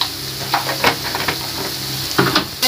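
Onions and spices with turmeric sizzle loudly in hot oil for a Bengali potol curry, a steady close hiss with a few stirring scrapes and no talking.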